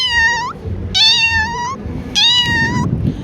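A man imitates a cat with three clear, drawn-out meows separated by short pauses, loud and close over a low background rumble.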